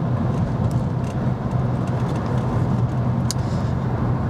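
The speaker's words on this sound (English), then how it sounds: "You have joined me from the driver's seat of my cheap BMW E90 3 Series" BMW E90 3 Series car driving on the road, with a steady, loud low engine and road drone heard from the driver's seat, continuous with no speech.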